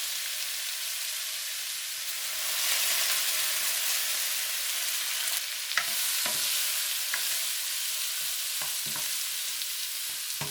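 Cooking sherry sizzles and hisses in a hot pan of shrimp, a steady bright frying sizzle that surges as the wine hits, with a few sharp clinks and scrapes of a utensil against the pan.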